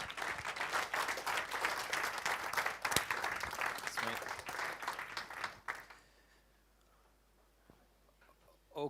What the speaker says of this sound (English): give Adam Sowden a big round of applause